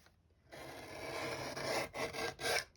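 Vintage paper being trimmed, a steady rasping cut followed by two shorter scraping strokes, close and fairly quiet.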